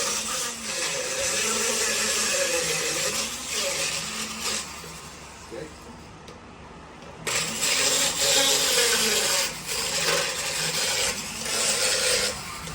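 Power tool spinning diamond burrs, a steady whining grind that drops out briefly midway and then resumes, close and moderately loud.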